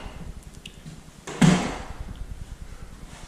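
Double closet doors in a newly built house's bedroom slide and bump together, one sharp close clack after light rattling, with a rough hiss trailing off in the empty room.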